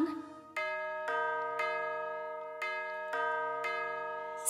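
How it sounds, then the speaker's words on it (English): A school bell in a children's song rings out repeatedly in clear, evenly spaced strikes, each tone lingering and fading before the next, with a brief voice at the start. "School bell ringing, school bell ringing, Brother John, time to go home."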